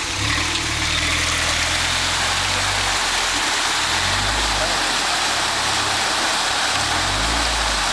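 A Jeep Wrangler JK engine runs and revs off-road in four-wheel drive on a Pine Barrens trail, a loud steady rumble with low throttle swells, alongside wind or wheel noise.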